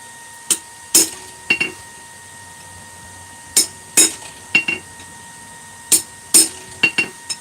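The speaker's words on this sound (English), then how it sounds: "I just clean up the ends with the cold chisel" A cold chisel is struck against the ends of a cut in metal, sharp ringing clinks in short clusters of two or three hammer blows with pauses between, close and loud, no talk.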